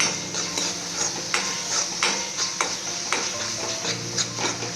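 Repeated scraping and clinking of a spoon stirring garlic masala, coriander powder and turmeric in a pan over a low sizzle, irregular strokes about once a second.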